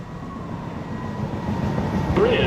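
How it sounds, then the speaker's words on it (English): A New York City subway train on the 1/2 line approaches 215 Street station, its low rumble building steadily over a couple of seconds, with a faint wheel squeal rising near the end. "Local Train to Rector Street. approaching the station."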